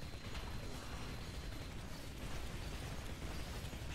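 Sustained mechanical gunfire in Titanfall aimed at a drop ship during an Attrition match on Demeter, a dense continuous rattle of shots and bursts with no talking.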